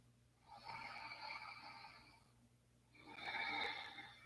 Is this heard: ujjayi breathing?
yes